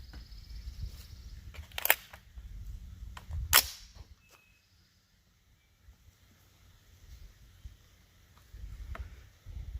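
An Andrews PSA BCA Steiner 5.56 AR-15 rifle fires two sharp shots a couple of seconds apart at an outdoor range, each ringing briefly before low wind rumble and quiet return.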